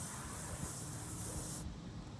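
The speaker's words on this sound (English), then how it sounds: "So I'm spraying these lines onto the ground here" A spray paint can marks lines onto the ground at a golf practice area, giving a loud, steady hiss that runs close to the microphone, then cuts off sharply just before the end with no talk.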